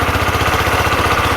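An ATV engine runs at idle to bake high-heat paint onto a freshly redone exhaust, a loud, close, rapid and even putter with a strong low throb and no voices.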